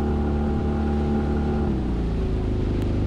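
A two-cylinder outboard engine on a salmon fishing boat drones steadily, then its tone sags and stumbles as it falters, loud and close with no talk.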